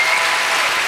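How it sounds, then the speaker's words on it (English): An audience claps in a brief, dense, steady burst at a student festival gathering. "It's a lousy clap."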